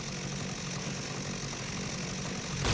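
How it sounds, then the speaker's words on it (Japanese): Loud vehicle engine in the video game Dead Rising, a steady droning rumble that runs continuously throughout and rises slightly at the very end, with no talking. "かなりエンジン音がうるさいね。"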